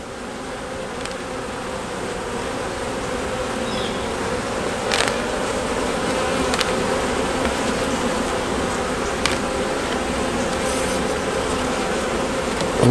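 A dense, steady drone of honeybees buzzing in an open hive fills the scene, close and continuous, with a few louder individual bees passing near and occasional light clicks of handling.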